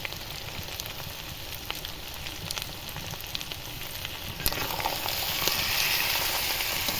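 Chicken pieces for ghugni, seasoned with salt, sizzle steadily in a pan while being stirred and sautéed, a continuous frying hiss with occasional scraping clicks that swell slightly louder near the end.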